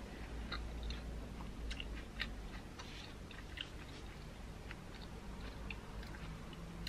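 Someone chews klepon, a soft rice cake, up close and quietly, with soft wet mastication and scattered faint clicks and bites over a low background hum.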